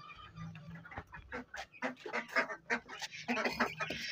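Ducks quack in a busy, irregular chorus, with chicks and hens clucking among them, fairly close.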